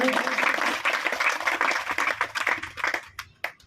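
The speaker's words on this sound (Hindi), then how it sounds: "इनके लिए जोरदार तालियों से इनका स्वागत करें।" Applause greets guests at a sit-in protest by BCCL workers on its twelfth day: a dense, crackling patter of many hands clapping steadily for about three seconds before thinning into a few scattered claps.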